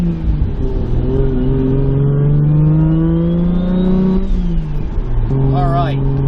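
Toyota Supra engine running while driving at about 40 mph, a steady loud drone with rising and falling harmonics as it revs through gears, continuous throughout with a brief dip near the end.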